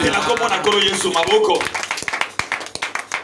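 Rhythmic clapping from a church congregation, steady and fairly close, with loud singing or voices over it at first, then bare claps carrying on alone.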